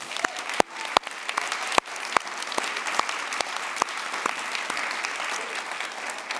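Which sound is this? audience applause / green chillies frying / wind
audience applause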